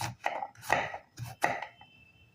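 A knife chops bottle gourd into small pieces for juice with three or four crisp, close cuts spaced unevenly, each with a short thud on the board, in a quiet kitchen.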